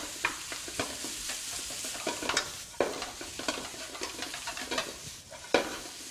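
Cold rice is stir-fried in a pan for Yangzhou fried rice, with a soft continuous sizzle broken by repeated scraping and tossing strokes of a spatula, close and moderately loud.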